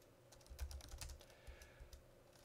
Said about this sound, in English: And I'm typing it wrong